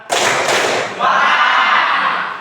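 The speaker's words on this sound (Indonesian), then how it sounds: "Dua kali tepuk tangan." A classroom group claps hands twice in unison on a teacher's cue, two broad loud bursts close together, followed by a lingering wash of noise and chatter.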